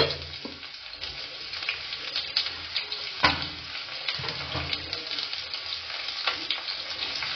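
Chopped onion frying in a pan gives a continuous close sizzle with repeated stirring scrapes and one sharper knock of a spoon partway through.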